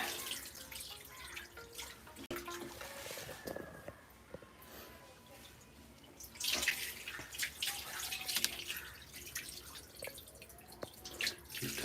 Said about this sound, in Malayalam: അതിലേക്ക് നമ്മൾ വീണ്ടും വെള്ളം നിറച്ചുകൊണ്ടിരിക്കുകയാണ്